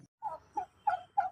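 A turkey gobbles repeatedly at a poultry-keeping site where ordinary chickens are also kept, giving four rattling bursts close by with short gaps between them and no talk over them.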